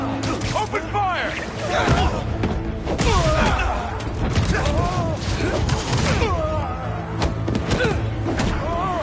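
Gunfire erupts in the Spider-Man 2 video game, with dense bursts of shots and heavy thuds layered over loud game music and shouting voices.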